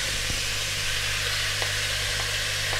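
Onions hitting a hot pan for beef bourguignon after the meat has browned, a constant close hiss of sizzling over a low background hum, with faint scrapes and clicks scattered through.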